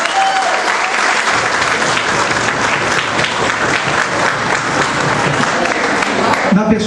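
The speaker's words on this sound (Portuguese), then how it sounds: "uma salva de palmas para o Rotary Clube Irmão de Sobradinho" Guests at a Rotary Club installation banquet give a round of applause for a visiting Rotary club, loud, close, sustained clapping from a packed room that holds steady for nearly seven seconds and then breaks off sharply.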